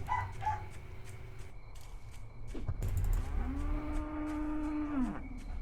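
A cow moos in a video game: one long, drawn-out bovine call that falls in pitch at the end, rising from a noisy background that holds short barking-like sounds beforehand.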